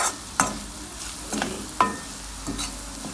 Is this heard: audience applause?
no